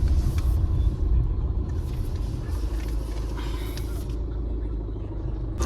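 A car engine rumbles low and steady throughout while parking, close and continuous, with faint road and mechanical noise over the top.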